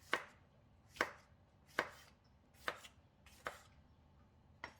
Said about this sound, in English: cut the tomato into wedges